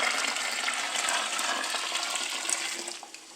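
Hot water gushes steadily into a vessel while homebrew elderberry wine is being made, a loud continuous pouring rush that tapers off near the end.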